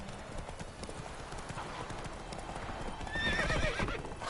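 Roach, Geralt's horse in The Witcher 3, trots with clear rhythmic hoof clip-clops and gives a whinny near the end, set against an outdoor game ambience with a faint voice in the background.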